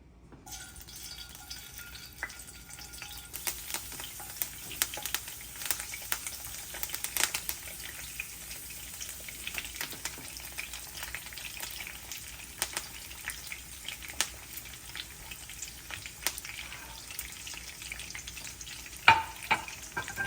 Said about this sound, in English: Our oil is looking pretty hot.